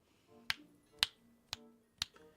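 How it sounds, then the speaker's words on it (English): Four crisp finger snaps ring out at an even half-second rhythm, close and sharp against a quiet room, each with a faint short tail. "I start snapping my fingers to wake them up."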